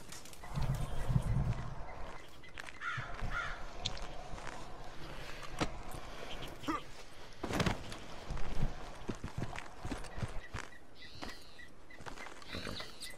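Horse hooves clip-clop at a walk in an outlaw western video game, a steady mid-distance plodding set among ambient game sounds, with no voices.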